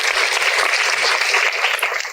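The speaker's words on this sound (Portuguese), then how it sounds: "uma salva de palmas pra Jéssica, nossa querida editora do livro" A crowd applauds editor Jéssica at a book talk in Araxá, with dense, steady clapping that stays loud and even for the whole stretch and carries no talk.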